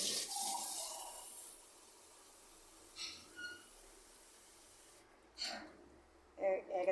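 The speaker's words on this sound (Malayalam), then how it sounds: "വെള്ളം നമ്മൾ ഒഴിച്ചിട്ട്" Water poured into a pot of elephant foot yam pieces with salt: a hissing, splashy pour at the start, then fading to quiet with a few short, soft sloshes and clinks nearby.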